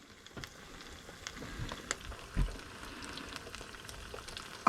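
Miniature crispy crabs fry in hot oil, a soft continuous crackle and sizzle with scattered small pops, close and fairly quiet, no voices.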